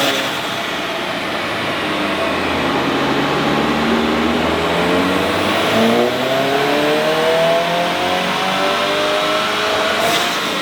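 A 2023 Subaru WRX on E30 fuel, bumper removed, revs hard through a dyno pull, its engine note climbing steadily in pitch for about ten seconds, loud and close with no talk.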